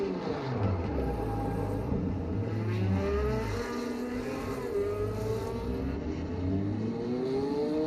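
Porsche 917LH race car in Project CARS 2, its engine revving up and down through repeated short shifts, rising and falling pitch sweeps close and loud, with no talk over it.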